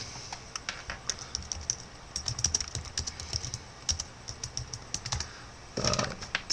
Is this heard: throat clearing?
no